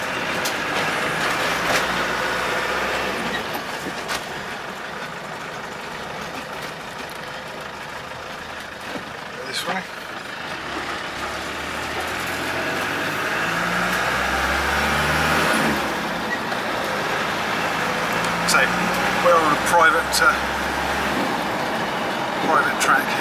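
A 1988 Land Rover 110 with a 300Tdi diesel engine pulls steadily in second gear on a private track, giving a continuous low engine drone with road and cabin noise and some faint clicks over the whole stretch.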